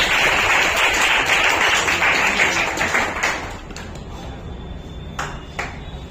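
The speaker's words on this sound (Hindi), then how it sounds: "जोरदार तालियां इन लोगों के लिए" Award-ceremony audience clapping for a line of winners on stage: a dense, steady wash of applause for about three seconds, then thinning to scattered claps and a few sharp pings as it fades.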